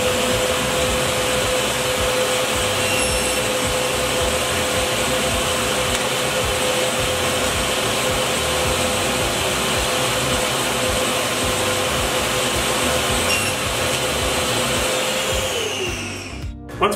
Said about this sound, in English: So I'm going to cut this in half.